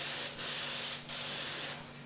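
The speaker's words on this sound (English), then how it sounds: "I'm going to go ahead now and paint the rear of this ear cap." Short bursts from a spray paint can coat the rear ear cap of a Boba Fett helmet, three close, steady hissing sprays with brief pauses between them.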